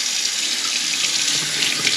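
Water runs steadily from a kitchen faucet into a sink in a Missouri farmhouse, a continuous close hiss and splash with no talking.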